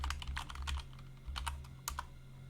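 Quick flurries of computer keyboard typing, clattering keystrokes in short bursts with brief pauses, close and clear over a low steady hum.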